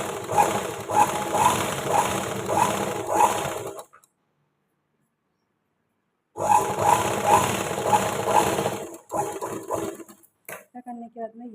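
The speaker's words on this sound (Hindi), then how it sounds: "अब इसके ऊपर एक फिनिशिंग वाली सिलाई लगा" A sewing machine runs fast, stitching a finishing seam along a blouse hook strip in two steady bursts of rapid needle rhythm separated by a silent pause, then a few short stops and starts.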